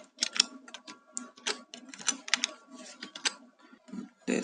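Rapid, uneven keystrokes on a computer keyboard, close and fairly quiet, in irregular bursts of clicks with brief pauses during a coding lesson.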